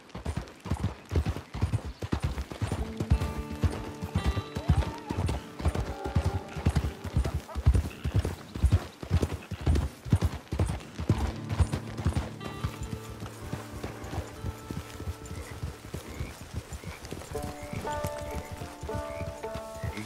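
Horse hooves clip-clop steadily and close in Red Dead Online, a rapid, regular trotting rhythm that continues throughout, with faint tonal game sounds layered beneath.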